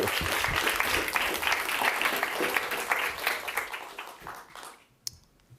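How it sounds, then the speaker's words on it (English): Keynote audience at a conference applauds a speaker being welcomed, steady dense clapping that thins and fades out in the last second. "let's welcome Roger with a big applause"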